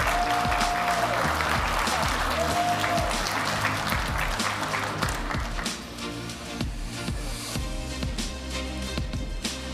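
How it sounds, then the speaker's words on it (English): Applause for the developers at a grand finale event of a developer challenge, a broad crowd clatter spread through the whole stretch with dense claps, steady at first and thinning slightly toward the end. "let's give a round of applause for developers"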